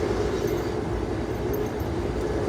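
A passenger train rolls along the rails with a steady, close rumble and a faint whine overhead, unbroken throughout.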